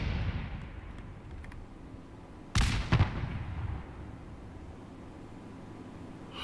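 Artillery fires in Fallout 4: two sharp, quick blasts, somewhat distant, break through a low hissing background and then fade into a soft, lingering rumble.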